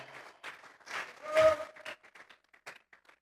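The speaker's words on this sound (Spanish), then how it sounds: "Vamos a regalarle ofrenda de palmas al Dios de la gloria" A church congregation at a Tuesday Bible study applauding as an offering to God, brief scattered clapping that swells and then thins out, faint and somewhat distant.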